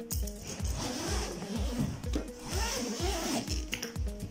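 A zipper rasps open in a series of short, rhythmic pulls, close by and fairly loud, with rustling of a bag underneath.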